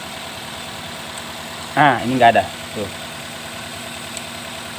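A Toyota Rush engine idles with a rough vibration and has trouble starting on the starter: a steady low mechanical hum runs throughout while someone speaks briefly over it.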